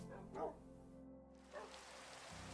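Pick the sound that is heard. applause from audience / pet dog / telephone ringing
pet dog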